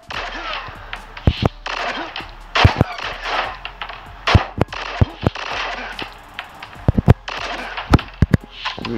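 Sierra 7 video game gunfire: repeated sharp single shots in an irregular rhythm, loud and close, mixed with other game effects and some speech.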